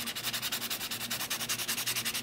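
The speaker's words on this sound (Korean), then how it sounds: "파일링보다는 샌딩 작업 해줄게요" An acrylic nail surface is sanded with quick, even back-and-forth strokes, a close and steady rhythmic scratching that continues without pause.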